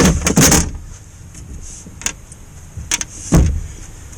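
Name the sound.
Mercedes power window moving up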